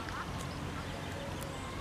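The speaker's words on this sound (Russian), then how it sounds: "Дикая утка." A wild mallard duck quacks in a park, with the calls heard over steady outdoor noise and a bit of nearby background voice.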